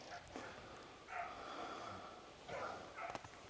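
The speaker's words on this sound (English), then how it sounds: "Got my dogs trying to track me. You might hear them in the distance." Several dogs bark and yip far off in an outdoor setting, the faint calls arriving in a few short bursts over a steady background hush.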